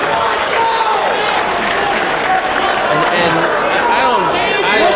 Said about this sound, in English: This crowd getting behind Samoa Joe.